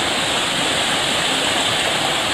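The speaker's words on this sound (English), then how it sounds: "we are coming up to a water crossing" Rushing stream water at a crossing on a mountain trail in the Kinsmans, a steady, loud, close broadband roar with no talk.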